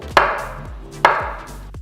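Two sharp knife cuts slicing bananas on a board, about a second apart, each a quick crisp thud.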